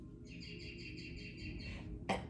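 Several birds chirp in repeated bright tweets late at night, a steady run of calls over a low background hum, followed by a brief sharp noise at the end.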